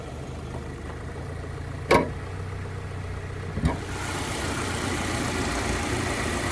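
A 2021 Subaru Outback Limited's 2.5-liter boxer engine idles steadily and quietly in the background, with two brief sharp knocks cutting through the low hum.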